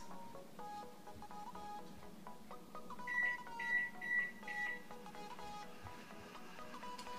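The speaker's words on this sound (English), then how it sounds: "let's set our timers for 5 minutes." A kitchen-style timer set for five minutes gives a short run of four or five high electronic beeps at a steady rhythm, close and clear, with faint music playing underneath.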